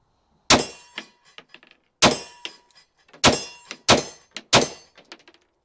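Staccato XC pistol fired outdoors at a range, five sharp loud shots with short echoing tails, spaced irregularly about a second apart.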